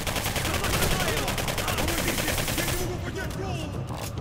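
Gunfire from a gun in the video game Singularity: a rapid, continuous burst of loud, close shots that runs for about three seconds, then cuts off into a brief quieter tail.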